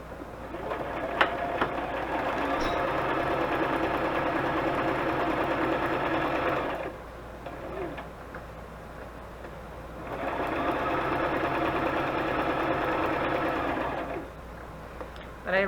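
A sewing machine stitches through paper index card pockets, a loud steady mechanical whir that runs for several seconds, stops briefly, then starts again in a second long run.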